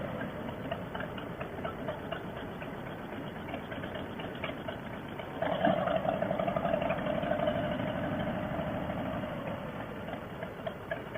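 A motorcycle idles at a Harley-Davidson dealership with a steady, fairly faint rumble that grows louder and rougher about halfway through, heard alone with no one speaking.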